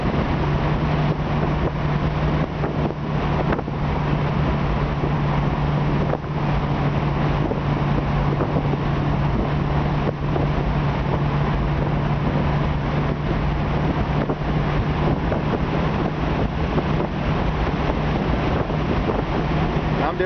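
A 1966 Ford Mustang convertible cruises at 55-60 mph through corners, a dense, continuous roar of wind buffeting and road noise with a steady low engine hum underneath, loud and unbroken throughout.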